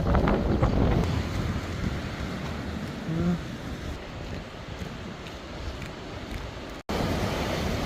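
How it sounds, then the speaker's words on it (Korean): Strong wind buffeting the microphone on a seashore walking trail, with a continuous low roar of waves underneath; gusts swell and ease, and a brief voice is heard at one point. "바람이 지금 엄청 불고 있습니다."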